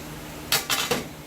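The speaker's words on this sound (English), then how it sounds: "So I'm going to get that skillet and put it up here" A metal skillet lifted and set down on a stovetop, three quick close clanks of metal on metal in about half a second, alone in a quiet room.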